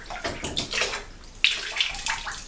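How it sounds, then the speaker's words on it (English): Water splashes and trickles as a synthetic shaving brush is wetted under running water. Irregular, close splashes come over about two and a half seconds. "So I'm going to wet the brush"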